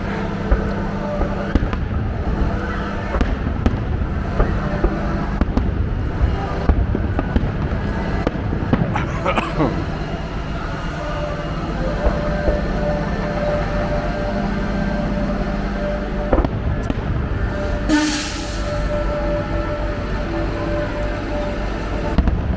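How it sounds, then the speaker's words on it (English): Fireworks booming at Animal Kingdom Lodge, a string of irregular thuds and pops scattered over a steady background hum, with a few louder bursts and a brief high whistle near the end. "Fireworks."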